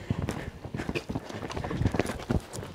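Hooves of a pony clip-clop in a quick, uneven rhythm over ground during a jumping session, close and moderately loud, with no talking.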